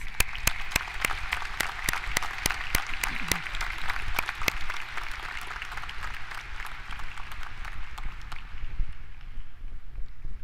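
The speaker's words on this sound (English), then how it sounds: "Let's give them a round of applause." Large audience applauding at an Algonquin College spring convocation ceremony in Ottawa: a dense, sustained wash of many hands clapping with sharp individual claps on top, easing and thinning toward the end.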